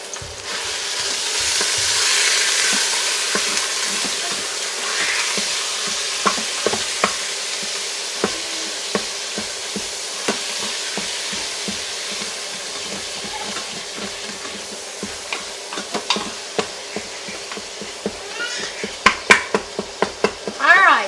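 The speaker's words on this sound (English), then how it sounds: "So I've got my meat in there, cooking it up" Ground meat sizzles steadily in a pan for chili dog sauce while a utensil stirs it, with sharp scraping clicks against the pan that grow denser and louder toward the end.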